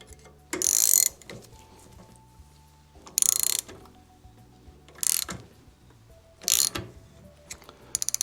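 Parts on a vintage Autolite distributor are tightened with a ratcheting tool in four separate bursts of quick, close clicking, with quiet handling noises between them.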